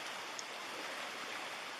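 Creek water flowing in New Zealand backcountry, a steady hissing rush close by, continuous and unbroken with no voices.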